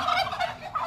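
A turkey gobbles in a rapid warbling burst at a farm where a coop is being cleaned and sprayed, loud and close against a noisy background.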